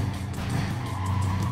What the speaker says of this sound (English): So you can see these are trucks and they're crashing